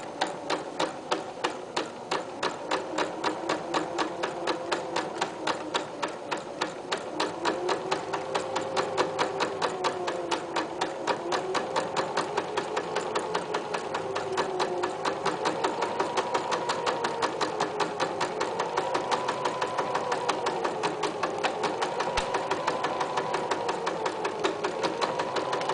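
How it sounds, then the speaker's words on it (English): Sewing machine running steadily for a long stretch, stitching front and back fabric panels of a locker caddy together, a fast even needle rhythm that stays loud and close throughout with no talking. "The needle goes down in the fabric. Presser foot comes up. Turn it. And keep on going."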